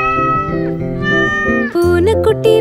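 A kitten's meows, delivered as a run of sustained, tonal cries that rise and fall, close and loud with no talking over them.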